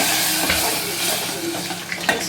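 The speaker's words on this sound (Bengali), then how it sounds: "পানি দিয়ে দিলাম," Water poured into a hot pan of frying mango gives a brief rushing splash and hiss over the sizzle, close, followed by a few stirring scrapes.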